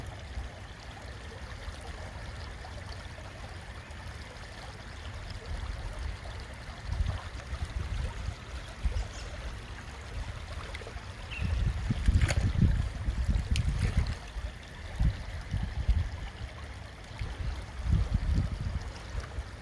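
A stream flows steadily outdoors, with a low rumbling wash of water that swells in a few louder surges; no talking.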